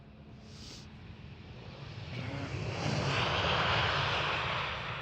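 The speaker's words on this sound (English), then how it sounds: "This was KLM Malta Airlines with an Airbus A320 Neo." A KLM Airbus A320neo airliner passes at Amsterdam Schiphol airport, its broad jet engine roar swelling steadily from moderate to loud and holding near its peak as it goes by, with no talking.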